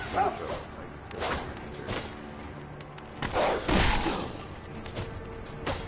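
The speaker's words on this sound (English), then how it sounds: "the dog just respawns just to scare you" Enemy dog in Sekiro: Shadows Die Twice barking in a few sharp bursts amid combat noise and clatter, loud and close, with no talk over it.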